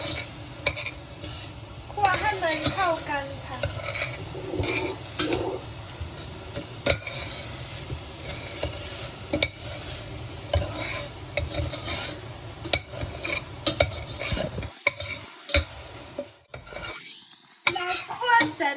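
Frog meat stir-fried in a pan for a Thai frog curry, continuous sizzling with repeated scraping and clinking of a utensil against the pan, close and steady throughout.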